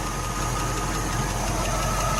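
A 1969 Buick Skylark engine with lifter chatter idles steadily up close, a continuous rumbling drone with a faint rapid ticking running through it.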